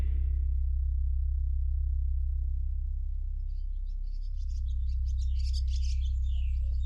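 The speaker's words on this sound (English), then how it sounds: "I hear the birds chirping" Faint bird chirps and tweets over a heavy low rumbling hum, with a brighter burst of twittering in the latter half.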